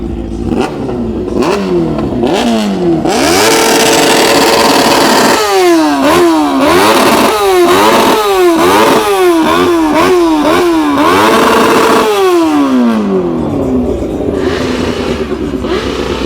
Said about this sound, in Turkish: Şurada bir motosiklet var, burada bir motosiklet var. Karşılıklı atışıyorlar biraz.